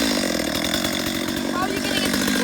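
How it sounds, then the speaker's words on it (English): A chainsaw engine runs loud and close at high revs, a dense continuous whine with slight rises in pitch, with a voice faintly under it. "Give it a couple of revs."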